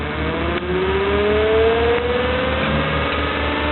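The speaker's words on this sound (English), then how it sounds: "we can hear the motor spinning up quite nicely" An Orbo demo motor spinning up on a power supply, a steady mechanical whir with a hum whose pitch slowly rises as it gains speed, loud and close, with no talking.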